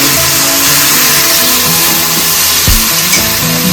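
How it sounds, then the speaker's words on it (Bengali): Chili-cumin paste hits hot oil in a pan with jackfruit and sizzles loudly and steadily, a dense close frying hiss with a few soft stirring knocks. "এবারে লঙ্কা জিরে বাটাটা দেবো"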